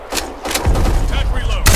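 Bursts of gunfire from the online shooter Black Squad, rapid loud shots in a short close volley with a voice speaking over them.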